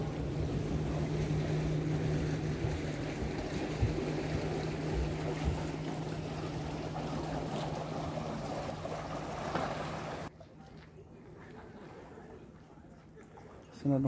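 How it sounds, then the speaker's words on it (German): A passenger boat cruising on Lake Königssee, with steady engine drone, water rush and wind noise filling the air for most of the time before the sound drops to a quieter hum near the end. "Das Schiff fährt weiter nach Saale zur Endstation"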